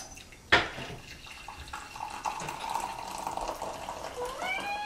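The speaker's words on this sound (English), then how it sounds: "can I pour you some coffee?" Freshly brewed coffee pours into a cup in a steady liquid stream lasting a few seconds, with a sharp knock of the cup or pot at the start and a faint rising tone as the cup fills.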